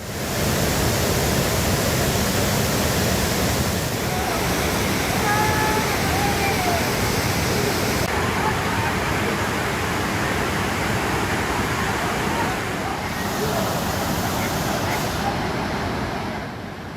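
Hogenakkal waterfall roars as a dense, steady rush of water, loud and close, filling the whole stretch without letup while faint voices mix into the wash.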